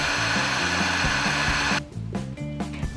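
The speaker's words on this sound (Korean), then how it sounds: "색이 뭉개지지 않도록 미니 선풍기로 중간에 한번 말리도록 합니다." A small mini fan whirs steadily to dry acrylic paint, a loud continuous motorized hum that cuts off about two-thirds through and leaves quieter handling noises.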